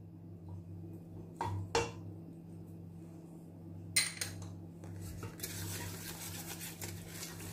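Spices such as oregano and cumin get stirred in a cooking pot for black beans, with a few sharp scrapes and clinks of a utensil against the pot over a soft background sizzle.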